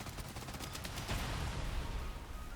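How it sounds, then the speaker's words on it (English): Faint, dense rumbling burst of weapon fire in an aircraft carrier battle game as a missile launches, a rapid rattle with a stronger blast near the middle, fairly quiet and continuous. "Oh, he's launching a missile at me."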